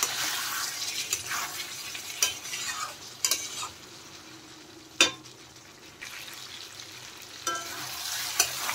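Pointed gourd, potato and prawn curry being stirred in a pan, with a steady frying sizzle broken by sharp scrapes and clinks of the spoon against the pan, close and alone.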